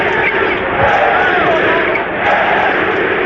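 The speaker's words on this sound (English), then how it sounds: "The Philadelphia crowd chanting MVP in honor of the one-time" Philadelphia basketball arena crowd during a 1993 76ers game against the Phoenix Suns, a dense roar of many voices chanting in a steady rhythmic swell that fills the space loudly and evenly.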